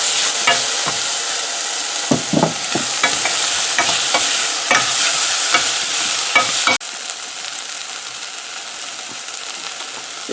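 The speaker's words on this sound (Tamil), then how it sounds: "அதையும் போட்டு வதக்க போகிறேன்" Onions and tomato sautéed in a pan for chickpea curry, producing a loud, continuous sizzle with irregular stirring clicks and scrapes, easing slightly quieter toward the end, with no talk.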